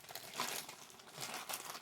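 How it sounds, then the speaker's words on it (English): Little plastic bags holding die-cast NASCAR cars crinkling as they are handled, a faint, close, continuous rustle with small bursts of crackling and no voices. "And they put them in these little plastic bags."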